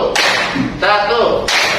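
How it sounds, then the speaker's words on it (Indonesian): Three sharp hand claps from a classroom group, spaced roughly evenly apart, each followed by a voice speaking between them. "Tepuk satu."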